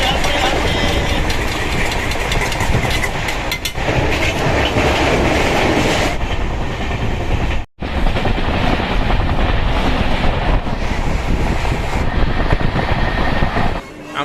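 Puri–Shalimar Dhauli Express rolling along, heard from a seat inside the coach: a loud, steady rumble with rhythmic clickety-clack of wheels over rail joints, briefly dipping midway before the roar resumes.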